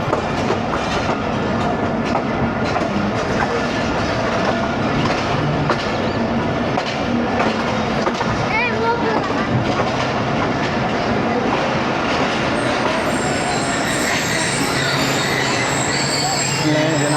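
Ravi Express passenger train running on rails, heard from aboard with steady rumbling clatter and wheel squeal throughout, loud and continuous, with faint talk underneath as it slows toward a stop.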